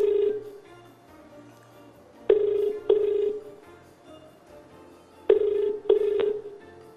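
On a live TV call-in game show, a telephone dials out and rings. Clear electronic tones sound in short pairs, two early and two more a few seconds later, over a faint studio background.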